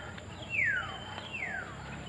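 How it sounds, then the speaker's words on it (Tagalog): A bird gives two clear descending whistled notes about a second apart, fairly faint against a quiet background. "Ang ganda ng huni ng ibon."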